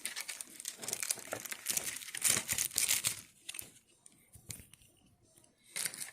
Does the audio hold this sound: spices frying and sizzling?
no